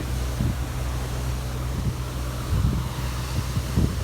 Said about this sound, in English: it gets louder and louder, windier and windier